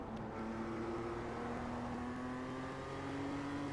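A BMW race car engine in the iRacing sim drones steadily and loudly at high revs on a final-lap chase, its tone climbing slowly throughout without a break.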